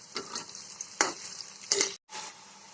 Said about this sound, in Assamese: এতিয়া পিঁয়াজখিনি দি দিলোঁ আৰু হাফ ব্ৰাউন হোৱালৈকে মই পিঁয়াজখিনি ভাজি থাকিম